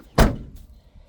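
A Ford Ranger pickup truck door shuts with a single close, heavy thunk, followed by a faint rattle and quiet background, no talk.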